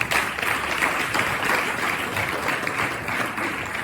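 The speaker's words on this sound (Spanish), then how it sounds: "Así que un aplauso para Conchi." Audience at a microfiction contest award reading applauding a presenter, a dense, sustained clapping from a crowd of moderate size, steady throughout with no voices over it.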